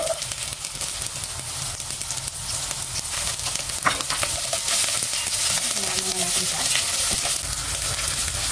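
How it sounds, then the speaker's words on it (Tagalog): Lemongrass, garlic, ginger and shallot sauté together in a hot pan as a base for chicken curry, giving a steady, close sizzle with occasional stirring scrapes throughout and no talking. "Igisa muna natin."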